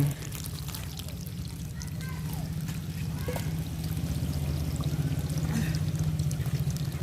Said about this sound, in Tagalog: Hindi, magdagdag lang tayo ng mineral water.